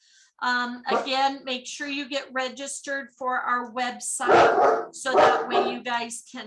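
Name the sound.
dogs barking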